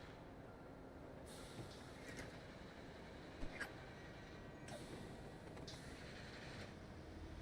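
City bus driving through streets in GTA 5, a low continuous engine rumble with faint hissing air-brake bursts and small clunks around the middle, quiet and steady with no talk.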